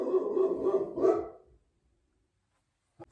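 Dogs in a home bark in a quick run of loud, close barks for about a second and a half, then fall silent, with a faint sound near the end.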